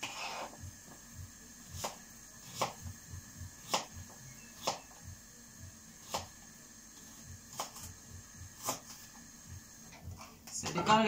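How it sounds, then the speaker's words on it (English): An onion is chopped into chunks on a cutting board, with a steady series of about a dozen crisp knife taps at close range, evenly spaced and fairly quiet. "Have one onion here, which I'm going to chop in chunks."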